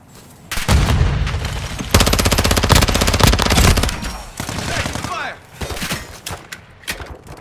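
Bursts of automatic gunfire and explosions from a Modern Warfare 2 multiplayer or DMZ match, loud and sustained with sharp rapid rounds, then tapering into scattered shots.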